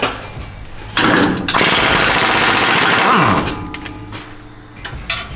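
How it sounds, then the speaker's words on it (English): Loud rattling burst of an impact wrench spinning cross member bolts off a 1992 Ford F250 with an 18mm socket during E4OD transmission removal, a short hit followed by a longer sustained whir, with clanks after. "we're going to remove our cross member bolts to be able to get the cross member out."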